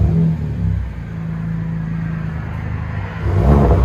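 A 2021 Kia K5 GT-Line with a Vibrant resonator exhaust revs close by. The engine gives a mid-pitched hum that holds steady, then rises into a louder, rougher rev near the end, with no talking.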